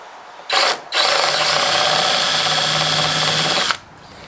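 A power drill with a drill bit bores into a Chevy C10 door panel, giving a short burst, a brief pause, then a steady close whine for about three seconds before stopping.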